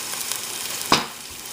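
Cumin powder and spices with ginger, garlic and green chutney sizzling in a pan for lentil curry, a steady close frying hiss with one sharp louder sizzle burst near the middle and no talking.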